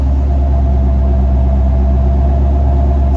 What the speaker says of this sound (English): Listen to that exhaust.